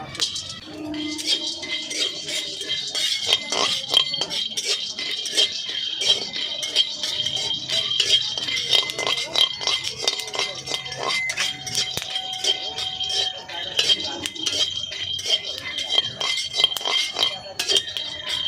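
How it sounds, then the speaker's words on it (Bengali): Peanuts and pumpkin seeds dry-roasting in a pan, giving a steady run of light clinks and rattles as the nuts and seeds are tossed and stirred, with kitchen noise throughout and no talk. "প্রথমে আমি বাদামটা ভেজে নিচ্ছি তার সঙ্গে দিয়ে দিচ্ছি কুমড়োর বিচিটা"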